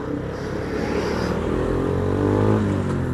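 Suzuki Gixxer 155 motorcycle with an aftermarket exhaust, a steady close engine drone with a slight rise in pitch and loudness toward the end, no talk over it.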